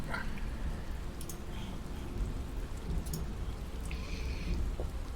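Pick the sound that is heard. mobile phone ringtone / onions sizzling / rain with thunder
rain with thunder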